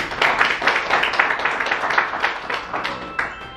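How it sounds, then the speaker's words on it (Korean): Applause from a crowd at a torch relay send-off ceremony, a steady patter of many hands clapping at moderate distance for a few seconds, alone without talk. "다시 한번 큰 박수 부탁드리고"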